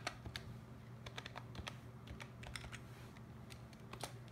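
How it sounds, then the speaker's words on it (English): A password is typed on a computer keyboard with quiet, irregular key clicks, a rapid run of taps and a few short pauses against a low steady hum. "Now I'm just going to enter my password."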